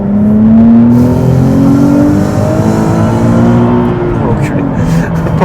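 Nissan 370Z sports car accelerating hard, a loud, steady engine note rising in pitch over several seconds, heard from inside the car with someone talking over it.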